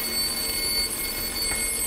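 An alarm clock rings continuously, a steady high electronic tone held at even loudness from start to finish with no talk.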